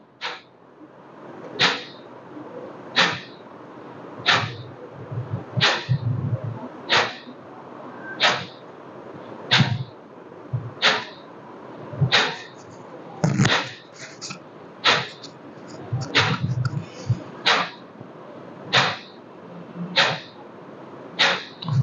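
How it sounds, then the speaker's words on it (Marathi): Kapalbhati pranayama breathing: sharp, forceful nasal exhalations repeat at a steady rhythm, roughly one every second and a half, close and clear against a quiet room with faint softer breaths between. "श्वास बाहेर फेकायचा आहे. श्वास आतमध्ये जातो. हा कपालभाती प्राणायाम."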